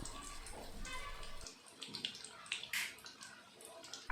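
Raw jackfruit kabab pieces frying in hot oil, a steady hissing sizzle with light crackles and pops, loudest in the first moments, then settling into a softer bubbling.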